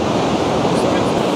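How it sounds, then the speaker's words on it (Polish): Pacific surf on the Oregon coast roars steadily as waves crash on the shore, a loud, unbroken wash of noise with wind buffeting the microphone. "Jak tam fale przywalają."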